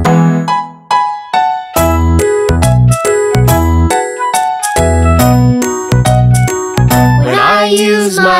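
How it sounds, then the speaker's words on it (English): Bright metallic wind chimes ring out in quick irregular strikes, overlapping and sustaining, loud and close, with a shimmering cluster near the end. "I can hear the wind chimes."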